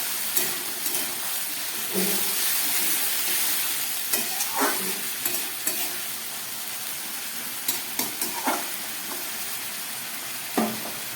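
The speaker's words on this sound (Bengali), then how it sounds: "মাংসটা অনেকটা কষে গেছে, এবার আমি দিয়ে দেবো এই বেটে রাখা মশলা" Mutton fries in a pan as a ground paste of ginger, garlic, onion, green chilli, tomato and cumin goes in, giving a steady loud sizzle and hiss broken by scattered clinks and scrapes of stirring.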